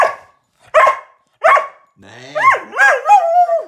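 A dog barks sharply several times, then breaks into a rising, wavering howl-like yowl, loud and close indoors, with a brief human voice in between.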